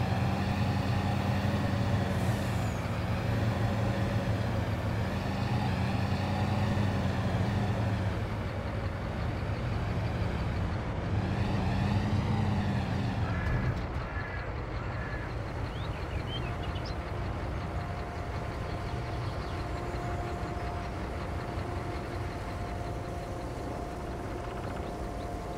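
Farming Simulator 22 truck driving with a steady engine drone, the pitch rising and falling through gear changes before it settles into an even low hum, alone with no voices.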